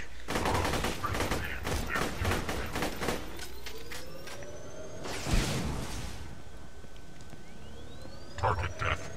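Bursts of fire from a Vladoff corrosive Renegade assault rifle in Borderlands 2, rapid sharp shots in quick runs with a louder blast midway and a short final burst, over faint game ambience.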